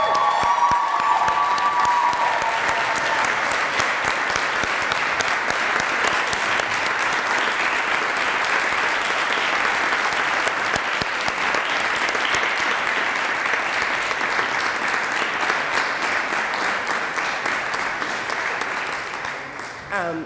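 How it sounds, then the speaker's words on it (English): Roaring applause fills a school stoling ceremony for graduating seniors of the class of 2025: a thick, sustained crowd clapping with some cheering, holding steady for a long stretch before easing slightly at the close. "give a roaring applause to our newly stoled seniors, this beautiful class of 2025"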